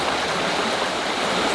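River water rushes in a close, steady, even wash that carries on without a break, with no voices over it.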